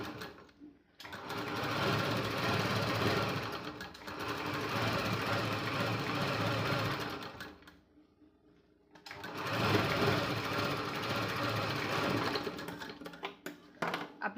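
A sewing machine runs in two long bursts, stitching a piping strip onto a blouse sleeve, with a steady rapid mechanical rattle, a short pause between runs and no speech.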